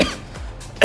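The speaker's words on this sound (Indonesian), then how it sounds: "Aduh, sorry batuk." A quiet room gives way to one sharp, close cough at the very end.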